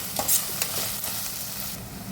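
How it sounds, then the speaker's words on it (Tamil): Ginger garlic paste sautéing in a pan for dal chicken, a steady close sizzle broken by a few sharp spoon-scraping clicks, with no voices. "இஞ்சி பூண்டு விழுது நல்லா பச்சை வாசனை போகிற அளவுக்கு நல்லா வதக்கணும்"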